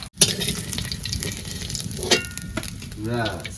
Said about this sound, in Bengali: কড়াইতে করে ভাজা